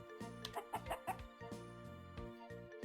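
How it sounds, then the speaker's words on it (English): A cartoonish farm chicken in the Fields of Mistria video game clucks repeatedly when petted, a run of close, clear, rhythmic bok-bok calls in quick bursts. "I can pet the chicken."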